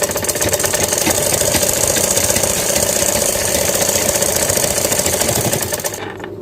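A sewing machine stitches a lehenga blouse with a fast, continuous mechanical whir and chatter, loud and close, running steadily for several seconds before slowing and stopping at the end.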